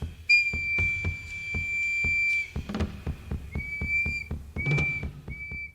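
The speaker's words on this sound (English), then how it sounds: "The whistle is kind of annoying, really." A shrill, steady whistle at a rodeo in Arizona sounds for a couple of seconds, then returns in shorter repeated blasts over a regular knocking beat. No one speaks.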